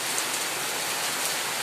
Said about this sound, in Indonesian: Mau aktivitas malah hujan,